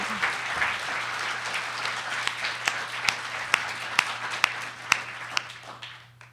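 Audience applause for event volunteers, a busy clapping wash that thins into a few separate, distinct claps before fading out, with a low steady hum underneath.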